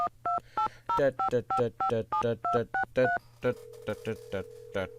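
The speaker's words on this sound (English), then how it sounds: "I'm gonna call Ned first because we have to kind of make up with him." A telephone number is dialed in a Nancy Drew video game as a quick run of clear keypad tones, each button press a short distinct beep, loud and close, ending in a steady line tone.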